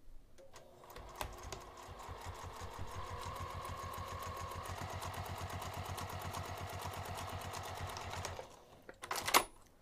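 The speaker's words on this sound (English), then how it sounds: "I'm going to take this back over to the sewing machine" A sewing machine top stitches near the edge of fabric at a 3 mm stitch length, running in a fast, even mechanical patter for about eight seconds before stopping, with a few clicks and handling noises at the end.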